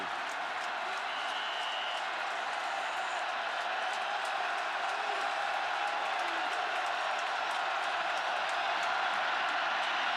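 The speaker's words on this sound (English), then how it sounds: "This is one of the loudest stadiums in the country and living up to it today." Roaring stadium crowd at a 2005 Florida State versus Clemson college football game, a loud unbroken wash of cheering and applause that holds steady and swells slightly toward the end.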